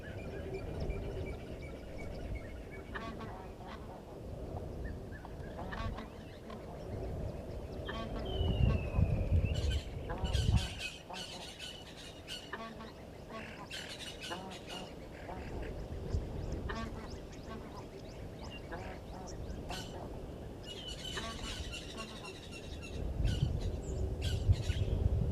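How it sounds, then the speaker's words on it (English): An unidentified bird call plays back as a recording for identification, giving repeated squawking, duck-like notes at moderate volume amid a busy outdoor background. "please do let me know what bird makes that call."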